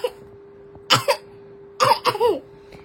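A child coughing in two short bursts, each a couple of quick rough coughs close to the mic, separated by a brief quiet gap with a faint steady hum underneath.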